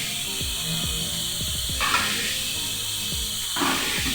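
Beetroot thuvattal is being stirred in a pan, giving a continuous hissing sizzle with rhythmic scraping and clicking strokes of the spoon, repeating in bursts and heard up close with no voices.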